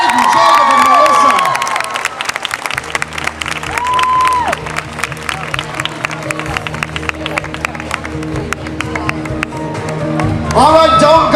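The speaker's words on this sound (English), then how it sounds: "How about another round of applause for Andy, Jacob, and Melissa?" A large outdoor crowd at the Disney-MGM Studios ABC Super Soap Weekend fan event applauds and cheers loudly for the All My Children soap opera cast, with whoops and shouts over dense clapping and music throughout.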